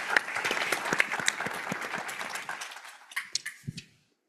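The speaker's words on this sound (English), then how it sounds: "If you want to join me in giving them a great round of applause." Round of applause for symposium panelists at a global health event, a dense crowd clapping that thins out and dies away into a few scattered claps.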